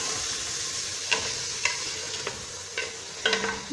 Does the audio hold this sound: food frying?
yes